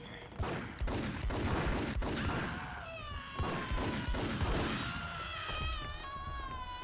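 Gunfire from the video game Max Payne crackles in dense, rapid volleys of sharp shots, with ringing, whining tones trailing off near the end.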